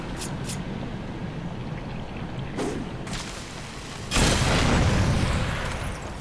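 In the video game Darksiders 2, a bomb explodes with a sudden loud boom that swells and lingers for about two seconds over a steady rain-like background hiss, preceded by a few faint, brief thuds.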